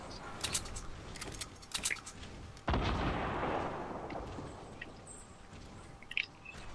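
Sniper rifle shots in Fortnite, a sharp burst at about 2.7 seconds followed by a long rolling decay, with scattered clicks and smaller game noises around it.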